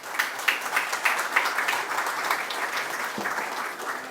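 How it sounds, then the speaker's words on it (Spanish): Steady applause from an audience at a book presentation ceremony for a historian's Bicentennial Collection volume, dense clapping sustained evenly throughout with a few sharper individual claps standing out. "Fuertes, fuertes los aplausos, más fuertes."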